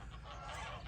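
Geese honk in a brief, faint burst, a few overlapping calls from some distance, beside the Saxon Shore Way near Otterham Quay.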